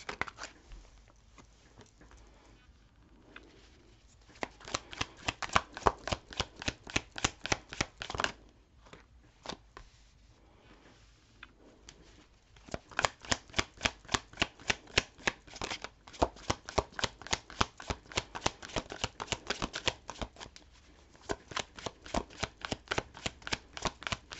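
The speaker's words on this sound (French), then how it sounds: "je vais tirer toutes les cartes et je ferai la lecture ensuite" Tarot cards are shuffled close by in long runs of rapid, evenly spaced papery flicks. Brief pauses break up the runs, and no voice is heard.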